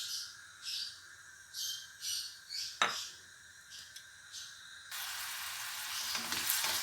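Finely chopped onions sizzle in hot oil for a chicken achar gosht masala, a steady frying hiss with short swelling bursts and one sharp clatter, growing into a louder, denser sizzle toward the end.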